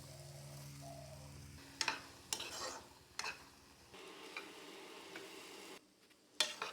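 Pieces of pumpkin frying in a pan with spices, soybean and egg, stirred with a utensil: a soft sizzle broken by several sharp scraping clicks against the pan, close and fairly quiet.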